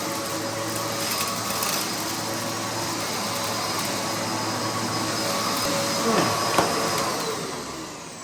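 A Hoover Dust Manager vacuum cleaner drones steadily as it runs over gravel, its motor whine constant and close, rising slightly near the end, with no talking.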